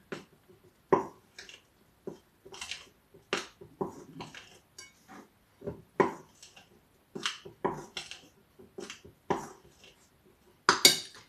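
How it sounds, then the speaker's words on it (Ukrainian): A spoon stirs a yeast mixture in a bowl for mini pizza dough, making a series of sharp clicks and scrapes against the bowl in an uneven rhythm, close and alone. "Гарно розмішуємо"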